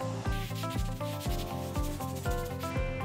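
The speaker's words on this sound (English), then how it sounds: "use a lint-free cloth and remove the excess." A lint-free cloth rubs excess sealer off porcelain tiles in quick, rhythmic back-and-forth strokes, close and fairly quiet, with no talking.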